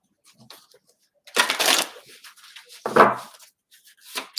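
Fairy Lenormand fortune-telling cards being shuffled, a soft papery riffle burst in the middle followed by a shorter flurry and a few light taps, close and fairly quiet with no talking.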